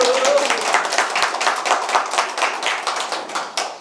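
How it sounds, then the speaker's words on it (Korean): Loud, steady applause from a crowd at a Korean political press conference, welcoming candidate Lee Seong-su; dense clapping fills the whole stretch close by, with no speech over it. "힘찬 박수로 모시겠습니다."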